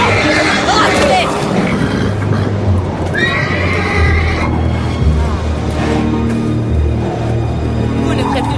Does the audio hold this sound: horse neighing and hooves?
yes